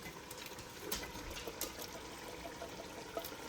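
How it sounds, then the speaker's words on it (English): Canned chili beans in chili sauce poured straight into a cooking pot: a soft, continuous wet glugging pour, faint and steady, with no talk. "You pour that in directly."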